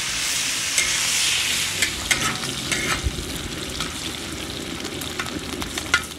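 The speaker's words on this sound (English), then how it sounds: "we want to constantly be moving the bacon" Bacon sizzles loudly and steadily over high heat on a disco griddle at a camp breakfast, with scattered utensil scrapes and taps as the strips are flipped again and again.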